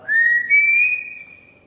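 A single rising human-like whistle in an abandoned school building, sliding upward and then holding a clear tone before fading, heard alone and fairly close.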